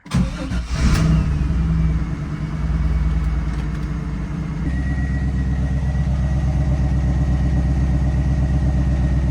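A 1998 Pontiac Trans Am with new spark plugs cranks briefly and fires up, then settles into a loud, steady idle that steps into a slightly deeper, even drone partway through.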